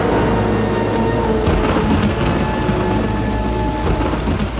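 Heavy rain pours down with low rolling thunder beneath it, a dense, loud and steady roar of rain with deep rumbles that swell briefly, and no voices heard.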